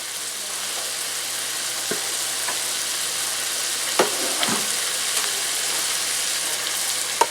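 Chicken browns in a pan with about a quarter cup of oil for chow mein, giving a continuous close sizzle with a few sharper spits and crackles. No voices are heard.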